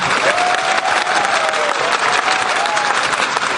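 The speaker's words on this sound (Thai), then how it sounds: "ขอเสียงปรบมือให้กับคนที่ชวนท่านมาหน่อยครับ" A seminar audience in a hall bursts into loud, dense applause that holds steady for the whole stretch, close and enveloping, with faint crowd voices mixed into the clapping.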